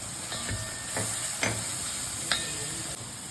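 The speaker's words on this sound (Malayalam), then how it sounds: "ഉള്ളി മൂത്ത് തുടങ്ങിയിട്ട് അതിലേക്ക് നമുക്ക് ചതച്ച മുളക് ചേർക്കാം" Onions fry in a pan with steady sizzling and hiss as crushed chili is stirred in, with a few scraping stirs standing out over the continuous frying noise, close and alone without talk.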